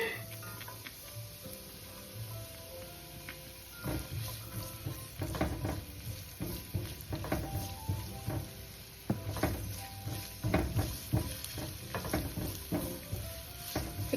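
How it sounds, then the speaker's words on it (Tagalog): A large amount of garlic fries in olive oil for anchovy fried rice, with a quiet, close sizzle and bursts of crisp tapping and scraping as it is stirred. The stirring grows busier midway, and nobody talks. "Isusunod po natin ang pagkadami-daming bawang."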